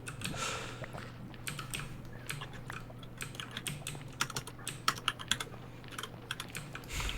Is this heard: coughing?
no